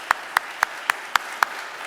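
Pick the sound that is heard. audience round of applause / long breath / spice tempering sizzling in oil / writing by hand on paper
audience round of applause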